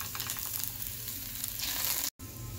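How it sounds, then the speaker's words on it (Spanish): Onion and garlic sautéing together in a pan, a steady close sizzle and crackle of frying that runs unbroken before cutting out for an instant near the end, then resumes. "que se sofrían ahí los dos juntos"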